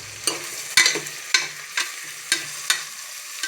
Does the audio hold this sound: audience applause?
no